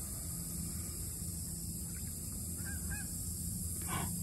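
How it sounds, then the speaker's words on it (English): Two Canada geese honk in short bursts, a quick pair then another call near the end, over a steady background hiss and low hum. "Geese."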